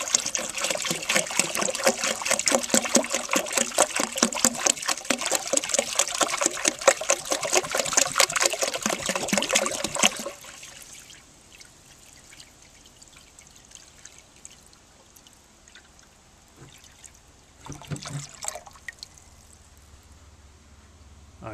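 A gallon of water pours steadily and loudly into a tank for about ten seconds, then stops, leaving quiet background with a brief splash and trickle later on.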